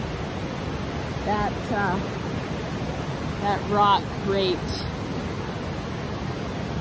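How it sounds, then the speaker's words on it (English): The Ashnola River rushes loudly nearby, a steady broad roar of flowing water under brief speech from a person beside the river. "The river is so loud."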